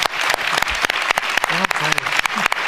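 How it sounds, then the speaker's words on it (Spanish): Audience applause at a lecture in a conference hall, sharp claps close by over a dense wash, with a voice briefly speaking partway through. "Un aplauso a Ludwig y a todos sus colaboradores."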